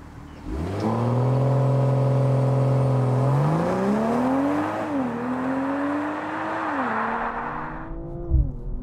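A BMW M240i xDrive coupé launches hard with traction control off in Sport Plus, its engine revving up through rising gear pulls with brief dips at shifts, loud and close, then cutting off.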